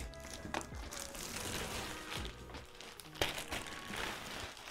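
Thick plastic wrapping around a boxed Sailor Moon Proplica collectible crinkles and rustles close by, with a few sharper crackles as it is handled, fairly quiet overall.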